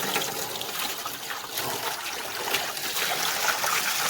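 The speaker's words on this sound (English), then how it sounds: "Go ahead and use this hose to rinse out the box." Water from a garden hose sprays steadily into a box being rinsed out, a continuous broad hissing splash that stays loud and even throughout with no talking.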